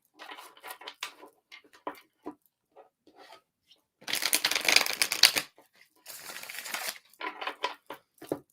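Tarot cards shuffled by hand in bursts, with a longer riffling flurry in the middle and another shortly after, framed by lighter taps and card handling; close and fairly crisp, with no talking.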